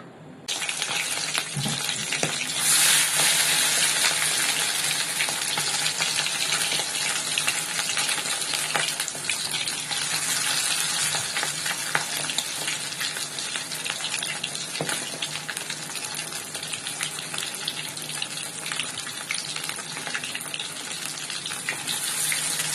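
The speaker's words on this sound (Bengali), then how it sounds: "ফাইনালি মাছ ভাজাটা হয়ে গিয়েছে" Fish frying in hot oil in a pan, a small jatka hilsa marinated with garlic paste and salt, giving a steady, loud, dense sizzle with crackle that runs continuously throughout with no talking.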